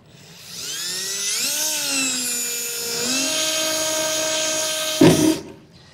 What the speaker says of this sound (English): So I'll go ahead and take a drill bit and just make a small pilot hole.